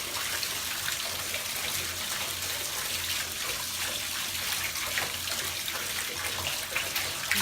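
Bath water churns and fizzes steadily close by as a bath bomb crumbles beneath the surface, a constant bubbling wash with no voices over it.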